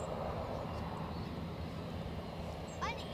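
An easyJet airliner taxis at Edinburgh Airport, its engines giving a steady, broad rumbling roar that holds constant throughout, with a person talking over it.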